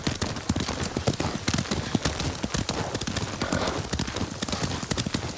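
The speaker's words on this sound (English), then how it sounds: "Lord Sakai taught me to ride a horse." Horse hooves galloping at a steady rapid pace while riding in the video game Ghost of Tsushima, a dense, loud, close drumming of clip-clops that continues throughout.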